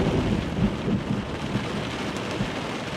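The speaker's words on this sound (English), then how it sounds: "if the storm really gets out of hand" Thunderstorm in Kootenay National Park, heard from inside a car: steady heavy rain drumming on a surface with low rumbles of thunder rolling beneath, dense and unbroken, no voices.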